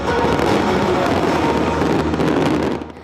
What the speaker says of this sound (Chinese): 利雅得半暝的空中是开始放庆祝的烟火